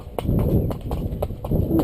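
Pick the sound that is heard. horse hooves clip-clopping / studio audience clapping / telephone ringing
horse hooves clip-clopping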